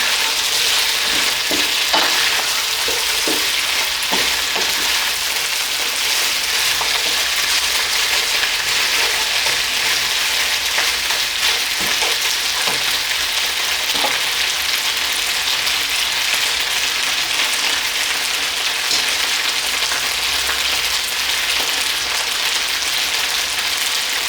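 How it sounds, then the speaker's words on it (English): Lamb chops stir-fry in a very hot wok in a Chinese kitchen, giving a loud, steady, dense sizzle and crackle with brief tossing scrapes that run unbroken throughout, with no talking. "Let's toss these lamb chops, and then they should be ready. And quick stir fry."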